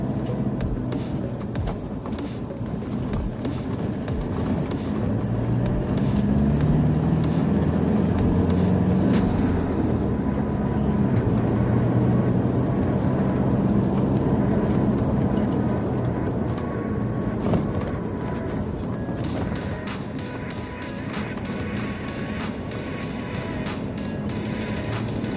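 Car passing along a dirt road on an oil palm plantation, a rumbling engine and tire noise that swells and fades over a steady outdoor background, with no voices.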